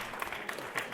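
Brief, fairly faint applause for a guest joining a live online talk, a short patter of clapping with a few sharper claps standing out.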